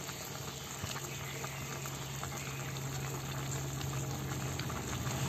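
Chicken stews in a pot with coconut water and peanuts, giving a steady bubbling, low hum of simmering liquid that stays close and even throughout with no talk.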